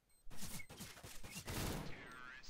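Rapid automatic gunfire from a weapon in the video game CS:GO, a dense burst of shots running nearly nonstop after a short quiet start, loud and close, with a brief voice underneath.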